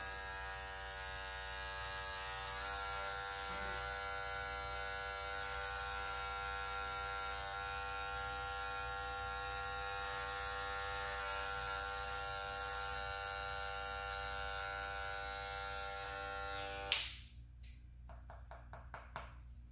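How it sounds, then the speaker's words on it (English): Cordless hair clippers run in a steady, high buzzing drone, close and unbroken for most of the time, then switch off abruptly, followed by a few light taps and handling noises. "Today I'm just cleaning my cordless clippers"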